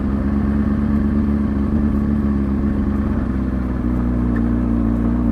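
A motorcycle moves slowly on barely any throttle, its engine giving a loud, steady low idle-like drone with an even rumble and no revving, close to the listener.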